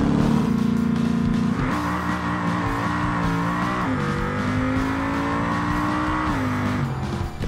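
The Bastion car in BeamNG accelerating hard down a highway, its engine droning loud and steady with rising gear pulls and brief dips at the shifts, plus a thin tire whine on top.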